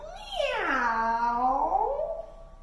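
A person's voice imitates a cat's meow in one long, clear, drawn-out call that rises and falls, loud and close.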